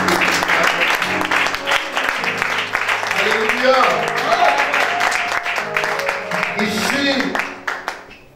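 Church congregation during a French-language worship service clapping in a loose rhythm, mixed with voices calling out and singing over the applause, which tapers off at the end.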